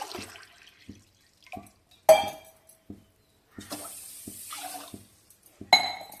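Water for a sugar syrup is poured into a pan from a glass in short bursts: clinks and small splashes, then a longer steady pour, close up with no talk.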